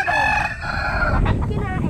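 A rooster crows once nearby, a loud drawn-out call with a rising then falling tail, followed by softer clucking and rustle near a riverside yard.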